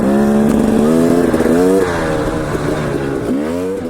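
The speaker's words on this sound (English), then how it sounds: "I'm riding the 2018 version of this KTM 250XC" A 2018 KTM 250XC two-stroke dirt bike being ridden, its loud engine revving in rising and falling pitch sweeps, close and continuous with no talking.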